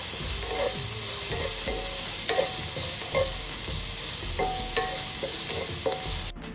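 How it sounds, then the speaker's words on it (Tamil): Chopped onion and coconut being stirred in a sizzling pan for mutton kulambu, steady frying hiss with a series of distinct scraping stir strokes, close and fairly loud, no talking. "வெங்காயத்தையும் சேர்த்துட்டு இதை நீங்கள் அகெயின் நல்லா மிக்ஸ் பண்ணிக்கோங்க."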